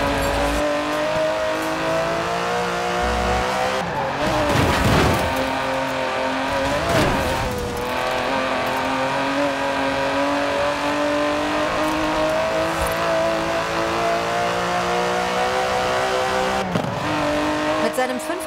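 A 5.2-liter twin-turbo V12 sports car in Forza Horizon 4 holds a steady, loud engine drone that swells with revving surges, sounding close and continuous throughout.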